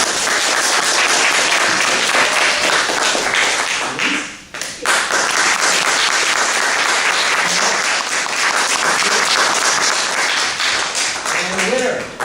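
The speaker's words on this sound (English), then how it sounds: "Applause for Conor." An awards audience applauds recipient Conor at the Margaret Maher Award ceremony in Amherst, loud, dense clapping that nearly stops once before swelling again and carrying on to the end.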